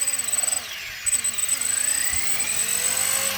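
Rotors of a Horizon Hobby AH-64 Apache RC helicopter spinning close by, a steady whirring drone with a high motor whine and rhythmic blade pulsing, alone without talk.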